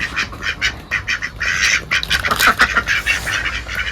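A duck quacking repeatedly while chasing a small boy around a village yard, loud close harsh quacks in quick uneven bursts.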